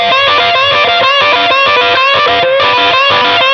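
A short, repeating electric guitar lick is played on two strings with a distorted, effects-laden tone. Quick notes follow in a steady rhythm, loud and close, with no talking.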